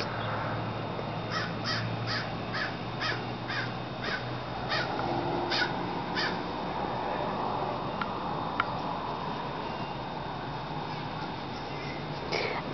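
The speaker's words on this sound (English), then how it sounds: "You looking at the crows?" A run of crows cawing repeatedly, fairly far off, in quick rhythmic bursts over constant outdoor hiss, then quieter scattered calls.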